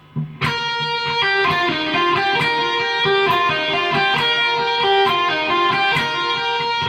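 An overdriven electric guitar rips through a quick, busy lick of rapid picked notes, loud and continuous for several seconds with no voices.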